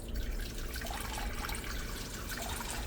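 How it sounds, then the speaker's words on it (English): Four cups of water pour steadily into a pot, a continuous splashing rush that stays loud and even throughout. "we're gonna add in 4 cups of water"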